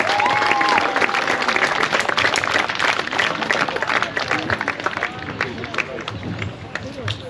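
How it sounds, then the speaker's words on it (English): A crowd of spectators at a youth softball championship final gives a sustained round of loud, dense applause with scattered cheers, steady throughout and tapering slightly near the end. "round of applause for Hutt Valley"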